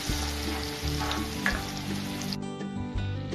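Yellow mango pieces frying in melted butter in a pan, a loud, bright sizzle with some stirring clatter, easing slightly partway through; no talk.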